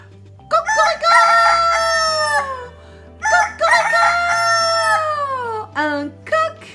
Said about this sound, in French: Un coq! Cocorico!